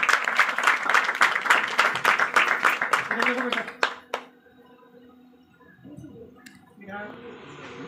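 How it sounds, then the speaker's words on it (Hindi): An audience at a school award ceremony applauds for a first-place winner on Independence Day, with dense, close clapping for about four seconds that fades out, followed by quiet and faint talk. "जोरदार तालियों से स्वागत कीजिए"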